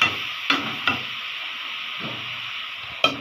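Vegetable bhaji fries in a pan with a steady hiss and sizzle, broken by a few sharp spatula clacks against the pan, no voices.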